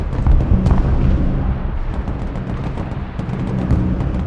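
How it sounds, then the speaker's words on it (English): Howitzer artillery fire in the war game Broken Arrow: loud, heavy booms and rumbling blasts that overlap continuously, close and dense, with no talking. "The howitzers are reloaded and ready to support us with long-range fire"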